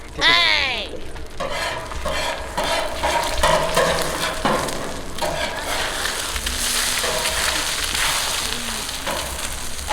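Eggs fry in a pan at a street stall, a steady sizzle with clinks of a utensil, while people talk nearby.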